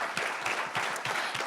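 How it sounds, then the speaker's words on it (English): An audience at a men's panel session claps in a round of applause, a brisk, moderately faint patter of many hands that stays steady and brief. "Everybody give a round of applause to Aaron Luden."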